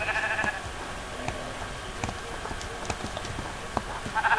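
Sheep bleat in the Minecraft video game over a soft bed of in-game noise, with a couple of short bleats at the start and the end and faint clip-clop-like steps in between.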